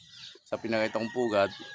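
Several close clucks from chickens, harmonic and choppy, in a short burst with a brief pause before a couple more rounds.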